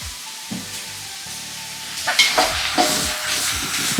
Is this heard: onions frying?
yes